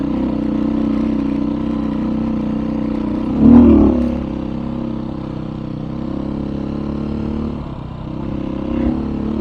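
A Beta 500 RRS dirt bike runs with a steady, loud engine drone on an outdoor ride, with one brief surge of revs near the middle and small throttle swells later. No one speaks.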